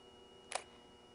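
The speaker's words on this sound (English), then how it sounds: "a big and unusual ka-thunk sound of the shutter" A single short, sharp mechanical shutter clunk from an Olympus PEN E-PM1 camera in an otherwise quiet setting, brief and fairly close.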